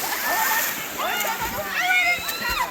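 A person jumps into river rapids with a splash, the burst of water noise rising amid excited voices and shouting nearby.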